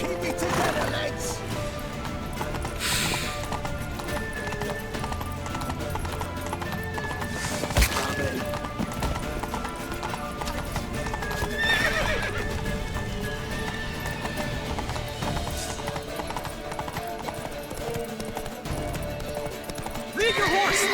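Horse hooves gallop in The Witcher 3 video game, a rapid clip-clop with occasional neighs, running under game music and shouted voices throughout.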